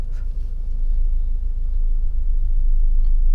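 Steady low engine rumble from a Mahindra Thar Roxx pulling away in first gear on a 35-degree day, a continuous near drone with no talk over it.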